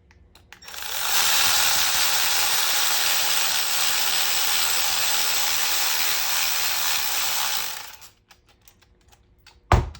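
Bolts are tightened on a dome light mount in a second-generation Toyota Tacoma, heard as a close, steady loud whir lasting about seven seconds, followed by a few light clicks and taps.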